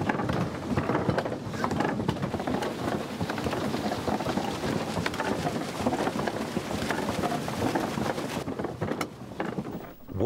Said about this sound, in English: Water hammers still thunder as they have for hundreds of years, crushing ingredients for the clay.